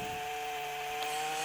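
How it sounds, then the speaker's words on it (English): A stock 50cc chainsaw idles and runs with a steady, buzzing two-stroke drone. It sounds fairly faint and even through a short stretch, with no voices. "for a modern saw, I think it runs all right"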